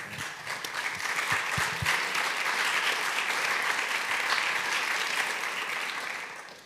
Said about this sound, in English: That's actually an applause for you, right?